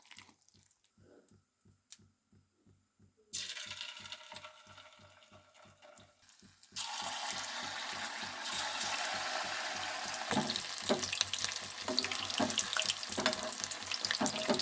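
Avalakki pakoda, flattened rice fritters, frying in hot oil, a steady loud sizzle that swells sharply partway through as more batter goes in, with a faint rhythmic ticking underneath early on.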